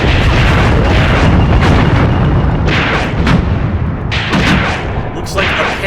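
Massive ordnance firing in a WW2 desert battle video game, with heavy booms and artillery blasts rolling continuously and loudly, overlapping one another, with a voice speaking under the barrage.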